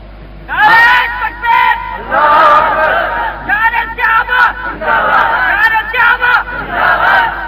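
A crowd at a religious gathering chants slogans in loud, rhythmic bursts of many voices shouting together, repeating several times with brief gaps between the calls.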